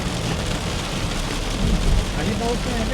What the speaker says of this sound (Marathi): खोपोलीच्या आसपासच पाऊस आहे